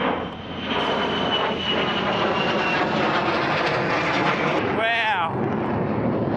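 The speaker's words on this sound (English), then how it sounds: "Look, there's a fighter jet going right above us." A fighter jet passes overhead above a coastal campsite, a loud, steady roar of engine noise that fills the whole clip, with a brief rising whine near the end.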